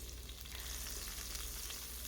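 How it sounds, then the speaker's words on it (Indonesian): Chopped spices fry in hot oil in an electric wok, giving a continuous close, even sizzle and crackle with occasional stirring noises and no talk. "masukkan bumbu yang sudah dipotong-potong tadi ke dalam wajan yang sudah ada minyaknya"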